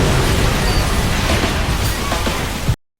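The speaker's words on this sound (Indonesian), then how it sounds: "bom telah meledak terlebih dahulu" A bomb blast from the anime Terror in Resonance: a loud, dense roar of broadband rumble and crackle sustained for nearly three seconds, then cutting off abruptly.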